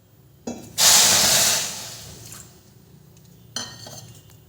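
Water pours into a pot of sugar for rasmalai syrup, opening with a clank, then a loud rushing hiss lasting about a second that fades, followed by another sharp knock against the pot near the end.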